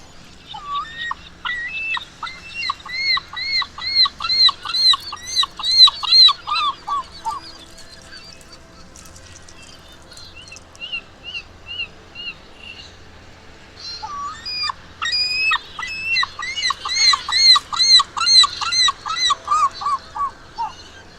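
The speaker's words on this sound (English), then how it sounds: "Glaucous gull, Larus glaucoides." A glaucous gull (Larus glaucoides) of Arctic and subarctic Canada gives loud, repeated squealing, yelping calls in two long bursts separated by a quieter pause, clear and close, with no voices.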